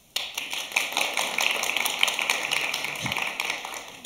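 Audience in a Wind in the Willows stage show clapping to vote on Toad's fate being community service, a dense patter of many hands starting abruptly and continuing steadily at moderate level with no talk.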